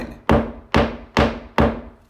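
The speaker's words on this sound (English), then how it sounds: "take a tool like your 6-in-1, use the butt end, and bang it in" Four sharp, evenly spaced knocks as the butt end of a 6-in-1 painter's tool bangs a pin into interior drywall, each hit a close, hollow thunk with a short decay.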